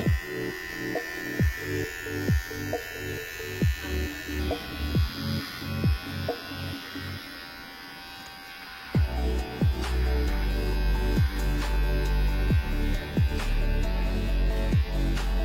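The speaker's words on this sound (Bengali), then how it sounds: "এটা zero machine, fully zero machine" A hair clipper set to zero buzzes close by while cutting a skin fade in a barbershop, a steady electric hum broken by repeated short strokes and clicks against the hair.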